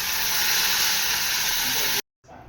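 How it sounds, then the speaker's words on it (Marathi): Water poured onto grated ingredient fried red for bhagar bursts into a loud, continuous hiss of sizzle and steam that stops abruptly. "कीस लाल झाल्यानंतर त्यात पाणी टाका।"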